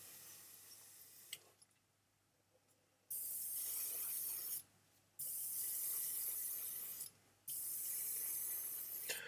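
An airbrush sprays a wash onto a miniature in three steady hissing bursts of a few seconds each, separated by short pauses, close and fairly quiet.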